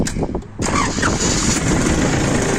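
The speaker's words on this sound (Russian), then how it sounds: "Сейчас запустим двигатель." A few cranking turns, then the diesel engine of a Hinomoto N329 tractor catches and settles into a loud, steady idle close by.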